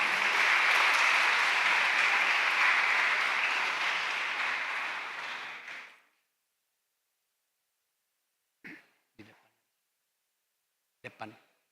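Loud, dense applause from a church anniversary gathering fills the first six seconds and then stops abruptly, followed by silence and a few short bursts of speech.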